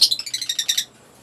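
A green-cheeked conure in an aviary gives a quick run of about eight bright, high chirps in steady rhythm, close and clear, then falls silent.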